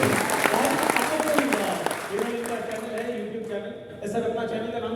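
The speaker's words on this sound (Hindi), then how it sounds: "दोस्तों एक बार हमसे तालियां बजाएं।" Audience clapping at a Hindi-language gathering honoring a YouTuber, dense and steady at first, then thinning as a voice talks over it, with a brief swell near the end.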